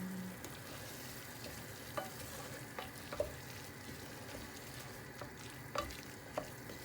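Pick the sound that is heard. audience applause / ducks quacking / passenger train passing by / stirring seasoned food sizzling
stirring seasoned food sizzling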